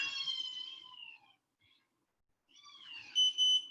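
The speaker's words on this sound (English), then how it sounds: "it's gonna beep." Electronic tones chirp in two bursts separated by a near-silent pause, the second ending in a pair of sharp, steady beeps.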